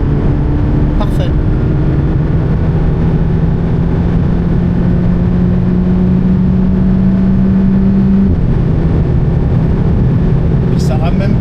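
An Alpine sports car on a race track, its engine holding a steady, loud droning note that climbs slightly before dropping abruptly as if shifting gear, with voices talking over it.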